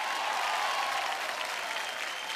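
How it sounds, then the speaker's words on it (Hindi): A crowd applauds steadily with dense, continuous clapping from start to finish. "जोरदार तालियां एक बार"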